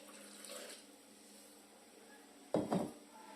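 Water is poured into chocolate cake batter in a short, close splash near the end, preceded by quiet kitchen sounds.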